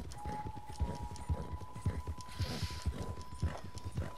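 Horse hooves clip-clopping in the Red Dead Redemption 2 video game, a steady trotting rhythm of soft thuds over a faint steady game tone, with a little talk in the background.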